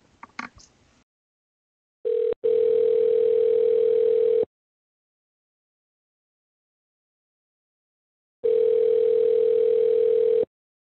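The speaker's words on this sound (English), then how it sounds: "I'm going to simulate a call while I'm out of the office on my mobile phone" A call placed from a mobile phone gives an electronic ringing tone: two long, steady rings about six seconds apart with silence between, after a brief bit of clicking.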